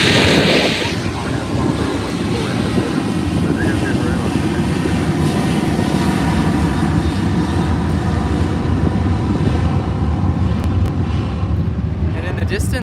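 An Alaska Airlines Boeing airliner in the Boeing 100-year livery passes at LAX near runway 24R. A loud, broad jet roar holds steady throughout, buffeted by wind noise on the microphone, with a strong whine at the start.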